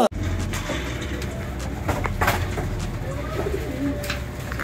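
Racing pigeons coo softly and continuously at a loft during feeding, a layered murmur of several birds close by with faint background noise.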